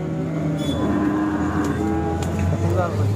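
Cattle at an HF calf market in Sangola, with a low, drawn-out moo rising over a steady crowd murmur and distant engine hum, heard from fairly close.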